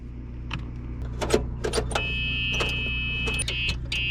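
A 1964 International pickup engine cranks without catching, giving a steady starter whir over a low hum. Close by there are a few clicks and a sustained tonal whine.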